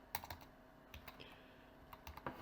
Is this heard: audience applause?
no